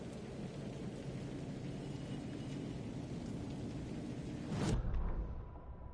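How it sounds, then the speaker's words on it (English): Steady rain hisses through a stormy night scene in Alan Wake 2, and a sudden thunderclap cracks and rolls near the end before the downpour continues, all fairly faint and with no voices. "Orland Dorr walked across the rain-slicked tiles of Caldera Street Plaza. The rain didn't seem to touch him"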